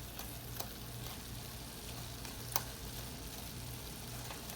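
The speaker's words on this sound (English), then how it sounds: "So I'm going to saute this down." Salmon sautés in a pan with a faint, steady sizzle and a low rhythmic hum beneath, broken by a couple of brief sharp ticks.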